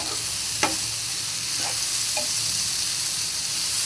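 Large chunks of vegetable fry in a pan with a steady, loud sizzle throughout, broken by a few brief clinks and scrapes of stirring.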